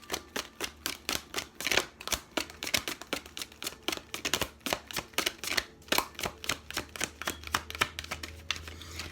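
Oracle cards being shuffled by hand, a steady run of crisp riffling snaps and flutters repeating rhythmically for several seconds, close and fairly quiet with no talking.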